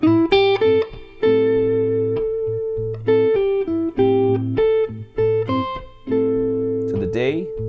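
Electric guitar picks out a melodic solo aimed at root notes, phrased in short held notes with brief gaps and a quick bend or slide near the end, played alone and close.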